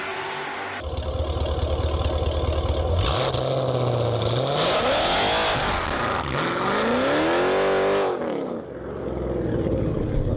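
A Dodge Challenger ScatPack with a mid muffler delete and long tube headers revs hard, its loud, raspy exhaust climbing and falling in several sweeping pulls over a steady rumble, close and alone.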